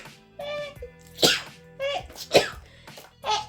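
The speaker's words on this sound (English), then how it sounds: "I'm gonna sneeze." A woman sneezes loudly and close up, two or three sharp bursts in quick succession, with breathy gasps and a bit of voiced sound between them.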